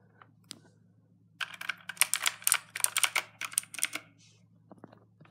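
Computer keyboard keys pressed in a quick burst of close, crisp clicks and clacks, roughly two and a half seconds of rapid typing against a quiet hum, no voices.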